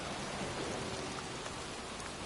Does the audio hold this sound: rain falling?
yes